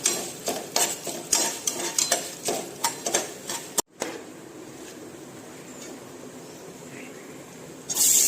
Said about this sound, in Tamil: வெங்காயத்தை இதோட மிக்ஸ் பண்ணிக்கிறோம்